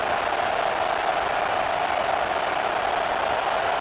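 Simulated stadium crowd in the College Football 26 video game roars as a dense, constant wash of noise, loud and unbroken for the whole stretch with no distinct voices.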